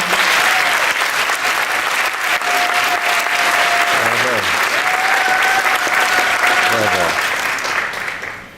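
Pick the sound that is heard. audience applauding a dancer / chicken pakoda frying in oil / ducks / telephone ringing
audience applauding a dancer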